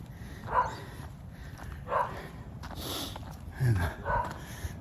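Guard dogs bark at a stranger walking past outdoors: four sharp barks come at uneven intervals, moderately distant, over a rough background of wind and footsteps.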